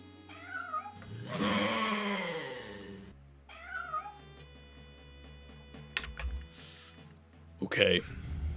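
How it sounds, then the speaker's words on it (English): A cat in the video game Daggerfall meows a few times in short, clear calls, with game tones and effects around them and someone talking between them. "I did, I pet the cat."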